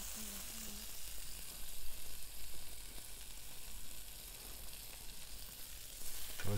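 Chicken or other food sizzling steadily in a hot frying pan, a dense continuous crackle that holds even and close throughout with no talk over it.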